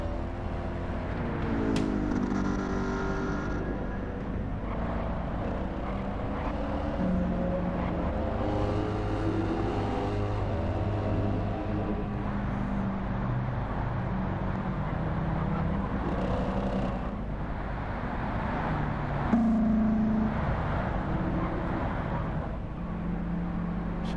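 Race cars with V8 engines in Gran Turismo 7 drone steadily throughout, engine notes rising and falling as the pack circulates, heard at a moderate level with no speech.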